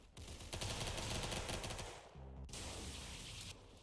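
A gun firing in the Roblox game Arsenal, a rapid burst of loud automatic shots that pauses briefly, then a second burst, close and with no speech.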